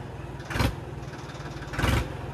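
Royal Enfield Bullet motorcycle idling with a steady low thump, broken by two short bursts of exhaust popping roughly a second apart, close and moderately loud.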